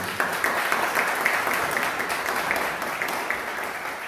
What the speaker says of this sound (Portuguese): Aplauda o Senhor, irmãos, em nome de Jesus.